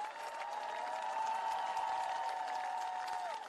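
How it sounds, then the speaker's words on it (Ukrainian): Thousands of people at an outdoor rally in Vilnius backing Ukraine's NATO membership applaud in a dense, sustained wash of clapping, heard from within the crowd, with a faint steady tone running beneath it. "Слова президента оплесками зустріли тисячі жителів Вільнюса"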